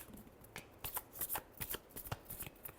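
Tarot cards being shuffled by hand in a series of quick riffling bursts, close and fairly quiet, with short pauses between the flurries and no talking.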